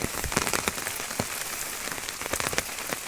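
Heavy monsoon rain pours over farm fields, a dense continuous hiss of drops hitting the ground with sharper splatters scattered through it, loud and steady with no voices.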